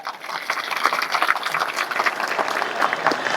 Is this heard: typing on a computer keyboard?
no